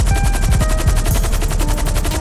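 Rapid automatic gunfire in GTA 5 rattles in a fast, evenly spaced burst lasting about two seconds, loud and close with no talking.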